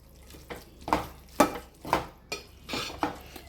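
A spoon stirs chili powder into an egg curry with spring onions in a metal pan, giving six or seven evenly spaced scraping clinks against the pan over a faint sizzle.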